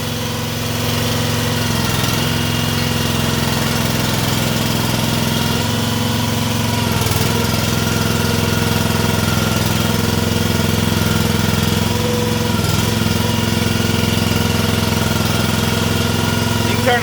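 A Centipede dune buggy engine idles steadily throughout, a loud, close mid-pitched running drone with strong low harmonics and a faint vibration, holding an even rhythm from start to finish.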